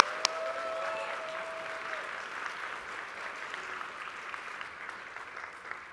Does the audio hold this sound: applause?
yes